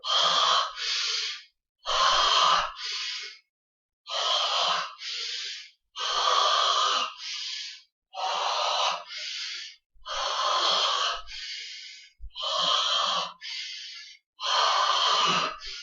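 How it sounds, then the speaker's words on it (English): Forceful traditional Okinawan karate breathing during hammer grip training in horse stance: seven rhythmic paired bursts of sharp, hissing exhalation and inhalation, close and loud, with brief silences between, and no talking. "that's just a traditional style of breathing used in Okinawan karate"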